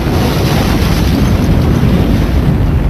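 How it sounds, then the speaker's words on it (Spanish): A Pentagon window model is tested with an explosion, heard as a loud, sustained, rumbling roar of dense broadband noise that fills the whole stretch without easing. "Junto con los ingenieros expusimos aquel modelo de ventana a una explosión para saber si se comportaba según se diseñó"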